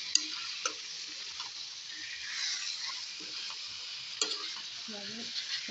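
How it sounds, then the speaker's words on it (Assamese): Pork being stirred in a pan for a home pork recipe, with a steady frying sizzle and a few sharp utensil clacks against the pan, close and moderately loud, no talking. "মাংসটো দি দিছোঁ অলপমান লৰাই দিছোঁ।"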